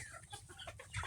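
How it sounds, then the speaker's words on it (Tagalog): Native chickens clucking softly nearby, a few short overlapping clucks in quick succession, fairly quiet. "Magpakadami kayo mga native na manok ha."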